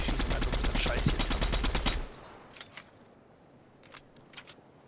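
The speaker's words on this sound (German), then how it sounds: "Ich schieße mal auf den Scheiß hier." Rapid automatic gunfire in the video game Fortnite rattles off in a loud, fast burst for about two seconds, followed by a few faint distant shots.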